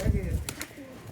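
Sialkoti pearl pigeons, pure breeder young birds offered for sale: a brief, close, low cooing burst with a couple of short sharp clicks, while someone talks over it.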